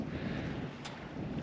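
Steady wind roars across a sailboat heading straight into it on a bumpy crossing, a continuous broad rush with a brief gust or flap in the middle.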